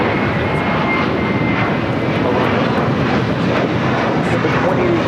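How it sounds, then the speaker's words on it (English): A JetBlue Airways Airbus A321 jet takes off at LAX, a loud continuous engine roar filling the air from start to finish without letting up. "Next takeoff here on the south side is JetBlue Airways Flight 2885 heading to Miami. It's an A321."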